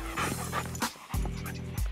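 A farm dog pants quickly and close by, two rapid bursts of breathy huffs separated by a short pause.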